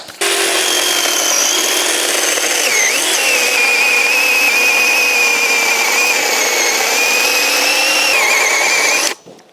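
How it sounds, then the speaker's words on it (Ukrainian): Small cordless battery saw cutting steadily through a firewood log on a homemade sawhorse, a continuous close, loud whining buzz with slight pitch shifts that runs unbroken for about nine seconds and then stops. "А тепер можна закидати нашу колоду і нормально її пиляти."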